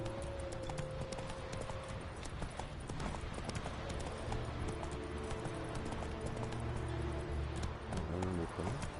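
Hooves of Roach, the horse in the Witcher 3 game, clop at a steady gallop, loud and close throughout, over a busy background of game ambience.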